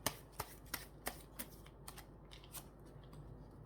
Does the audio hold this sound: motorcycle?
no